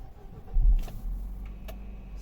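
A 2008 Nissan Qashqai+2 with a 2.0 petrol engine starts up, a brief low starter crank settling into a steady, quiet idle rumble with a couple of small clicks.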